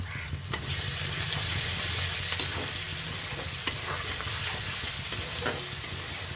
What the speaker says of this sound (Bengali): এবার আমি পেঁয়াজ বাটাটা এর মধ্যে দিয়ে দিচ্ছি